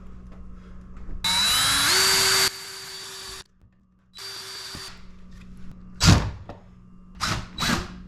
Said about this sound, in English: Now I'll mark the bracket holes for pre-drilling.